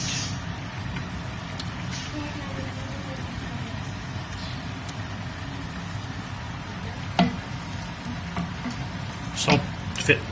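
Pieces of luncheon meat sizzle steadily in rougaille sauce in a pan over low heat, a continuous soft frying hiss with a few faint clinks near the end.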